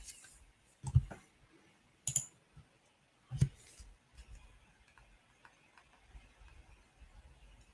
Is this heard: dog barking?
no